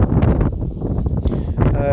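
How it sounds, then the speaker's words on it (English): Strong wind buffets the microphone in heavy, low gusts outdoors among leaves, while a voice talks through the rumbling noise. "Oh crap, it's really windy."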